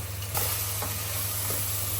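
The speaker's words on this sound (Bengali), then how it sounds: "পেঁয়াজটা এখন বাদামি করে ভেজে নিতে হবে" Onions frying in a pan with a little salt, a steady close sizzle with low hiss and a constant background hum, no talking.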